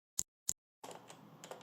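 Two sharp, crisp clicks of a keyboard switch fitted as the power button of a LEGO-built gaming PC, spaced about a third of a second apart, followed by faint low background noise.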